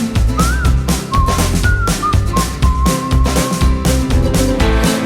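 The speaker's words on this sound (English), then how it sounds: "I will whistle if I can" A clear, sliding whistled melody rises and falls over a loud, rhythmic musical backing, sustained notes held between short phrases.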